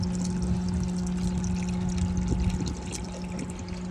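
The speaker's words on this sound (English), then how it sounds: "see how we got a much better stream of water right now?" Running water pours in a steady, continuous stream close by, with a constant low hum beneath it; no one talks.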